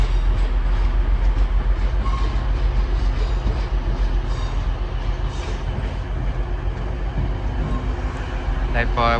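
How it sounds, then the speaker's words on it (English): A Northern train pulls into Sheffield station with a loud, steady rumble of wheels and engine, a faint squeal toward the end. "Soon to arriving now will be a terminating northern service from Adwick"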